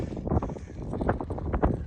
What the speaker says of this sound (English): As usual for the late winter, it's windy up on the top.